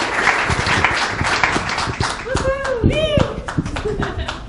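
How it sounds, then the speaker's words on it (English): An audience claps at an event while excited voices and cheering rise over the applause, with clapping running throughout and shouted speech and whoops layered on top. "Let's give her a round of applause."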